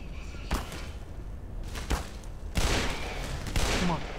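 Gunfire in the Black Mesa video game on hard mode: four sharp, loud shots spaced about a second apart, the later ones heavier with ringing tails, over a steady background din.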